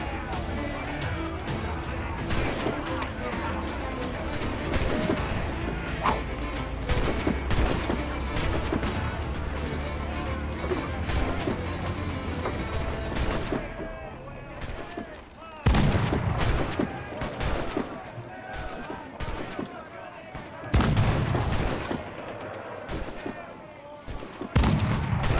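Repeated cannon blasts and crashing impacts from a naval battle in Assassin's Creed IV Black Flag, loud bursts stacked densely through the first half and then sparser, heavy booms later, with a voice talking over parts of it.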